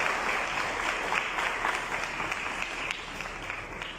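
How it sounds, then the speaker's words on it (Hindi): A congregation at an evening prayer meeting claps to welcome a preacher, a steady, moderately loud wash of many hands that carries on evenly throughout. "सो आइए हम ताली बजा करके प्रभु के दास पर हम स्वागत।"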